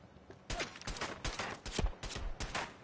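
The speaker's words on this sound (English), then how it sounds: "Who's shooting at me?" Rapid bursts of gunfire in Fallout 4, several sharp shots in quick clusters firing repeatedly at close range, loud and punchy with no talking over them.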